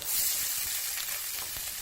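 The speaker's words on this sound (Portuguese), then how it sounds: "um fiozinho de azeite na panela, aquela refogada na cebola" Onion frying in a thin drizzle of olive oil in a pan, a steady bright crackling sizzle throughout, close and alone.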